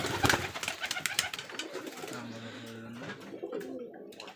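Rajshahi Giribaz pigeons coo in a few low, rolling phrases at a pigeon farm, starting after a burst of clattering noise and continuing near and moderately loud amid background bustle.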